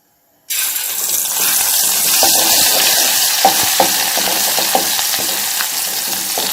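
Oil hisses and sizzles loudly as roasted mutton masala fries in a pot, a steady crackling with a few sharp pops and stirring scrapes.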